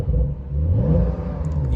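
A Porsche 911 Carrera GTS engine revs up in a loud, close, deep roar. The pitch climbs and eases back through a short burst of throttle.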